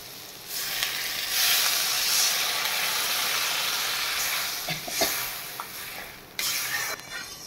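Water poured into a hot pan of frying potato pieces sets off a loud, steady hissing sizzle that swells and then settles over several seconds, with a few soft clinks near the end.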